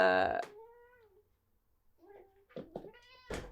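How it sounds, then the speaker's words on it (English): Domestic cat meowing close by, a drawn-out meow followed by a few shorter chirps and cries in a quiet room, with someone talking between them. "this cat wants to be a part of the video"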